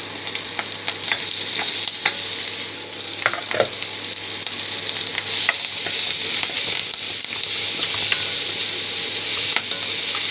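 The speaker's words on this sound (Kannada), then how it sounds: "ಕ್ಯಾಪ್ಸಿಕಮ್ ಸ್ವಲ್ಪ ಅಂದರೆ ಒಂದು ಅರ್ಧ ಬೆಂದಮೇಲೆ ಈಗ ಈರುಳ್ಳಿ ಹಾಕ್ತಾಯಿದ್ದೀನಿ" Chopped onions go into a pan of half-cooked capsicum and sizzle and crackle loudly and continuously, with occasional stirring scrapes and no talking.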